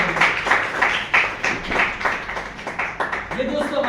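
Audience clapping loudly at a business plan show in Muzaffarnagar, a dense, steady patter of many hands filling the room, with a voice starting to speak at the very end.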